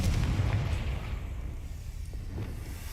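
A Confringo spell blast in Hogwarts Legacy, a booming explosion loudest at the start, with a deep low rumble that decays and lingers through the rest, no talking.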